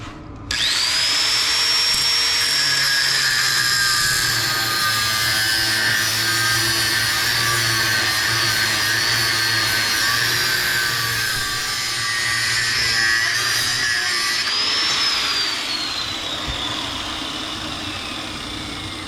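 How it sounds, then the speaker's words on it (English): An angle grinder cuts through a used engine oil filter from a Detroit 4-53T diesel, a steady high whine with a sustained grinding rasp that carries for most of the stretch and then tapers off near the end. "Nah, I just use a grinder."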